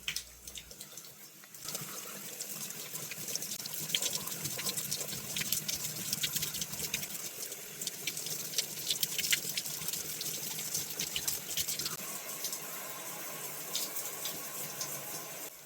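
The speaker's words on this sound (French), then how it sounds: "Il faut bien rincer pour enlever toutes les impuretés." Water from a tap rinsing hair during a coffee-mask hair treatment: a soft, continuous splashing and pattering stream, fairly quiet and steady, with no speech.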